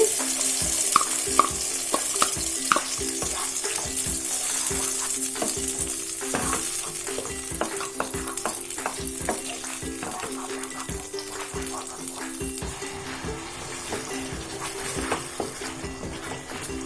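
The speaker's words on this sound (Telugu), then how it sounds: "మరి కొంచెం నెయ్యి వేసి ఈ అరటిపండు మిశ్రమాన్ని వేసుకోవాలి." Mashed banana mixture cooking in ghee for halwa, a constant frying sizzle with repeated spoon scrapes and taps against the pan, close and busy throughout.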